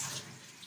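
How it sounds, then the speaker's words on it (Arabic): Water pouring into a cooking pot of washed rice, a short, steady close splashing rush that fades slightly, with no voices. "هنحط كوبايتين ونص ميه"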